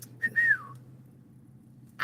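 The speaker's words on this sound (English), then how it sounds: "I can whistle." A person whistles a short rising-and-falling tune lasting about half a second, fairly close and clear over a low steady background hum, then quiet follows.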